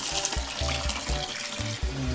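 Tap water running into a sink to fill a newly fitted drain trap for a leak test, a steady close splashing rush with a low repeating pulse underneath and no talking.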